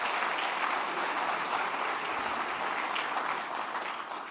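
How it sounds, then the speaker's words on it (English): Sustained audience applause at a city State of the City address, dense steady clapping from a large crowd that holds throughout and fades slightly at the end. "So a big round of applause for them."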